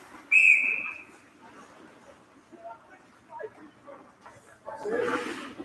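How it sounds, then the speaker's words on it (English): A referee's whistle gives one sharp, piercing blast at a junior varsity high school ice hockey game, with rink noise, crowd sounds and a commentator talking in the seconds after. "Not sure what the whistle's for here."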